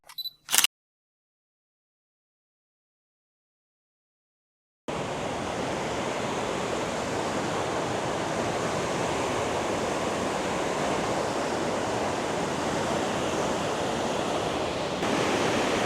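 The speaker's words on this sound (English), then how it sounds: "One of the problems shooting this waterfall is the spray that comes off of it." A waterfall roars as a constant, broad rush of falling water, starting after a brief click and a stretch of silence.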